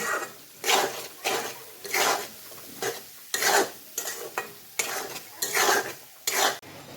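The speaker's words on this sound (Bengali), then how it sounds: "মরিচ গুঁড়ো এগুলো দিয়ে ভালো করে নেড়েচে নেব" Chili powder and salt are stirred into a homemade tamarind pickle, the spoon scraping the pot in rapid, repeated rasping strokes, close and clear with no talking.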